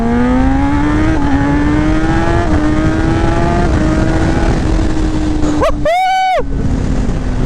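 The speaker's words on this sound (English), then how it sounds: "Let's get on the throttle a little bit here." Kawasaki ZX10R KRT Edition sport bike under throttle: a loud, close engine drone holds high revs and climbs slowly, then a brief sharp whining sweep rises near the end.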